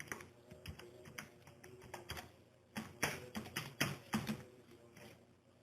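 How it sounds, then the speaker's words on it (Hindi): Rapid keyboard typing as an ID is entered on a traffic-violation website in Saudi Arabia, with bursts of close, crisp key taps in an irregular rhythm and no voices. "तो मैं यहाँ पर अपनी आईडी टाइप करता हूँ"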